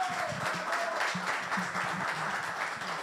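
Audience at a Riga regional mobility panel discussion applauds, a moderate even patter of many hands clapping, fairly distant and steady throughout.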